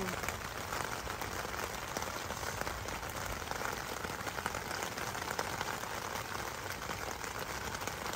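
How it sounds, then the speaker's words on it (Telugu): Steady rain pattering on a surface during a rainstorm at a forest campsite, a dense even hiss throughout with no other sounds standing out. "వర్షం పడుతుంది బయట."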